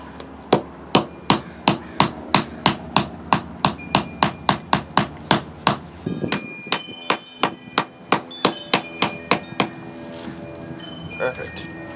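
Soft mallet tapping parts of a 4-inch Benchmark lift kit for a Jeep WJ, a long steady series of close, sharp knocks at an even pace, with a short pause and quieter taps toward the end.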